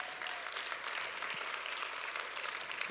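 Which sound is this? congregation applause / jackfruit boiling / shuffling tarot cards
congregation applause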